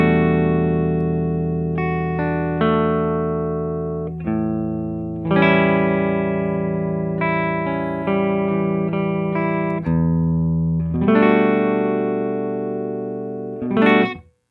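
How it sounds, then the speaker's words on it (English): An electric guitar plays sustained clean chords and notes on its neck pickup through a pedalboard, ringing loud and clear with a slight ambient tail, the phrases rising and fading in turns. "Here is my clean tone on my neck pickup."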